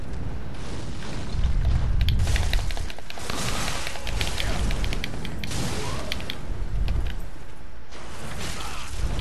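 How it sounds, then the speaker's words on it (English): Fireballs explode around the player at Archdragon Peak in Dark Souls III, a dense run of loud booms and whooshing bursts over rumbling game noise. "Shooting fireballs at me"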